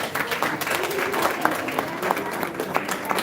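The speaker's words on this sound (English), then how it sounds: "So just give yourself a round of applause." Sustained audience applause fills an awards ceremony hall, steady and fairly loud, with a few sharper claps standing out and no speech over it.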